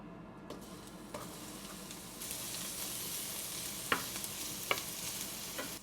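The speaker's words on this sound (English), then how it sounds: "once the oil is hot, we're gonna add our onion" Onion sizzles in hot olive oil in a pan, a low steady frying hiss that swells partway through, punctuated by a few light taps and stirring clicks.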